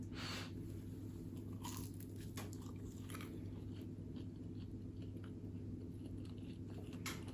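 Close chewing of a vegan no-pork patty from a Veganuary supermarket range, soft crunching and mouth sounds repeating over a steady low hum.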